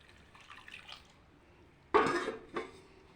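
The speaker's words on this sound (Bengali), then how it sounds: "এবার জল দিয়ে দেবো।" Water poured from a vessel onto rice flour in a kitchen while making modak dough: a faint splash and trickle, then a short second pour, with light clinks of utensils.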